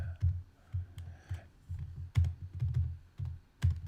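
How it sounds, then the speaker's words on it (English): Fingers type on a computer keyboard in quick, uneven bursts of close, crisp key clicks, with brief pauses between runs of keystrokes and no voices. "Just typing in the live chat."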